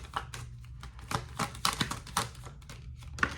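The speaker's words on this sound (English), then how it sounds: "Let me pull some more cards for you." Tarot cards pulled from a deck during a reading: a quick series of close, crisp taps and slides of card stock, irregular and fairly quiet over a low steady hum.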